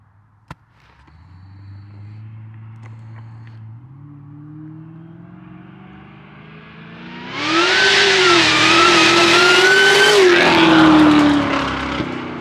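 A car with a KONG ported supercharger idles, then revs and climbs in pitch before roaring loudly under hard acceleration with a high supercharger whine, then eases off near the end.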